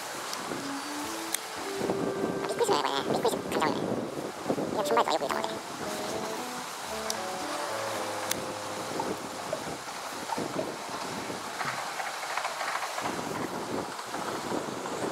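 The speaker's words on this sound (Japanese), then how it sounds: "風が強い。" Strong gusts buffet the microphone at a riverside fishing spot, a steady broadband roar with bursts throughout, while someone talks over it.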